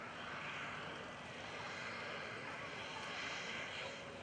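Radio-controlled model aircraft flying at an outdoor airshow, a continuous engine drone held at steady loudness, heard at a distance beneath broad wind-like noise.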